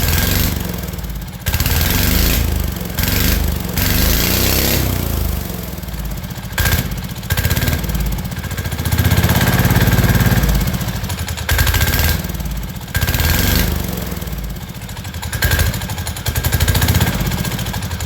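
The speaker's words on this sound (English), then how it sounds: "I'm not going to run it long, but I'm just going to make sure I have throttle response" A diesel mini bike engine runs with the rear wheel lifted on jack stands, a loud, steady chugging drone with repeated throttle blips rising and falling throughout.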